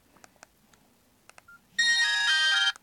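A JioPhone notification tone sounds as an OTP text message arrives, a loud sustained electronic chime lasting about a second after a few faint taps and clicks, heard alone without speech.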